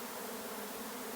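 Swarming honeybees fan their wings at a hive entrance, making a steady, dense drone that holds an even level throughout, close by and continuous.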